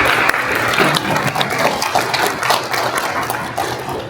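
Applause from a forum audience at a construction industry gathering, scattered and fairly close claps that stay steady for several seconds without talk.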